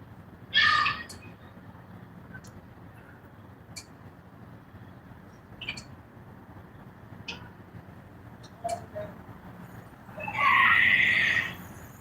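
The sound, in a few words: seagulls calling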